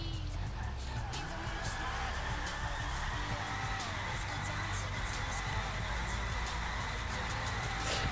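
Tuned Super-Banshee sports car in GTA Online with its exhaust revving; a loud, continuous engine drone fills the whole stretch with no break.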